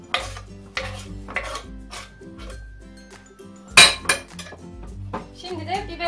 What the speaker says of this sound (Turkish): Doğradığım patlıcanları böyle bir geniş kabın içerisine alıyorum.